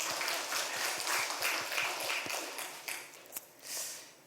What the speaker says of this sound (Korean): 박수 보내드리고 싶습니다.